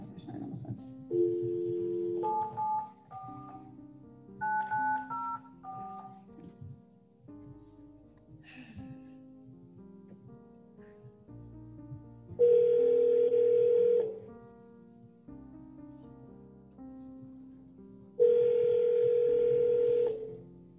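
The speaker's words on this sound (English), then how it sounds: "Let me see if I can call him on the phone." Telephone call placed over a video-conference court hearing: a short run of stepped dialing tones, then two loud steady ring-back or dial tone bursts, each about two seconds long, separated by quieter background voices.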